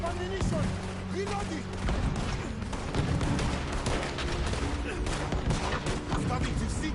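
Cannon blasts in Red Dead Redemption 2, dense and booming under a constant layer of loud game noise and overlapping voices, with gunfire-like bursts running throughout.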